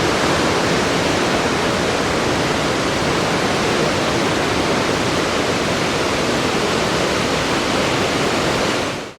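Victoria Falls waterfall roars as a massive, steady wall of rushing water, loud and unbroken from start to end with no voices.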